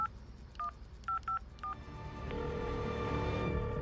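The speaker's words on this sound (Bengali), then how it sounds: "মোবাইলটা তুলে নিয়ে একটা নাম্বার ডায়াল করলো মানুষটা" A mobile phone number is dialed: five short, evenly clipped keypad tones beep in quick succession, then give way to a soft, steady hiss.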